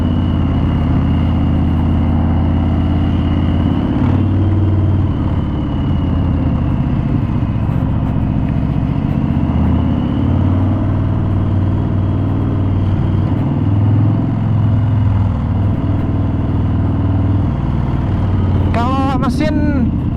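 A 2020 Harley-Davidson FXDR 114 with a Milwaukee-Eight engine rumbles steadily at low pitch as it rides along, loud and continuous, with someone speaking over it and a brief sharp chirp near the end.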